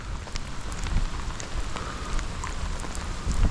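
Rain falling outdoors on a city walk, a steady close patter of drops on surfaces with scattered sharper drips, moderately loud and continuous, with no talking.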